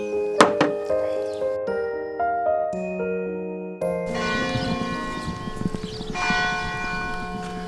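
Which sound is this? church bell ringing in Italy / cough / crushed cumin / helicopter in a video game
church bell ringing in Italy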